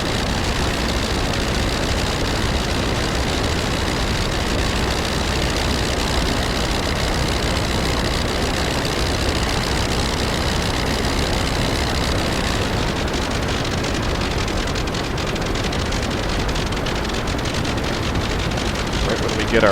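A Nieuport 17 biplane's engine in the flight sim Rise of Flight drones steadily and loudly for the whole stretch, a dense, unbroken roar that shifts slightly in tone partway through.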